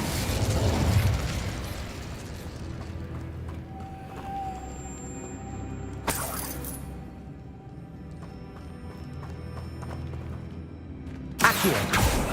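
Hogwarts Legacy game audio in which the Incendio fire spell is cast, heard as sudden whooshing bursts over a dense background of in-game ambience, with a second burst near the end.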